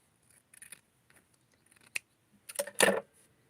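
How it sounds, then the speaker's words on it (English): Fabric scissors snip away excess fabric while a wrap skirt is being sewn, giving a few light cuts early on, one sharp snap near the middle, then a louder cluster of close, crisp cutting strokes toward the end. "I'm going to trim it away."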